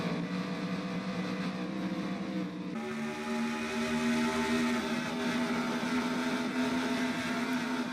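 A field of race cars accelerating together at the green flag in a 1994-era stock car racing game, a loud droning engine roar that steps up in pitch and intensity partway through and holds steady as the pack pulls away.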